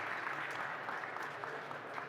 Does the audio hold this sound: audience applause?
yes